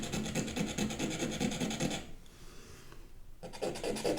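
Oil pastel being scraped across paper in dense, rapid rasping strokes, a close, gritty scratching that runs steadily, breaks off briefly, then resumes.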